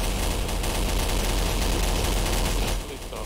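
Dense, continuous machine gun fire rattles loudly and up close in the game Garry's Mod during a Zombie Survival match, with overlapping bursts forming a near-constant barrage before it eases off slightly at the end.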